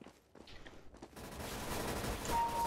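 Submachine gun fire in Counter-Strike: Global Offensive: a few sparse shots, then a loud, continuous rapid burst that fills the last second and a half.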